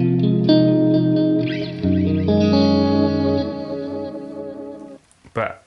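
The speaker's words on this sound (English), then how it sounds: "The other preset I put together involves the space echo." An electric guitar runs through a Line 6 HX Stomp space echo tape delay preset, playing sustained, warbling chords and notes smeared with repeating echoes and modulation, then fading out before a few brief picked scrapes at the end.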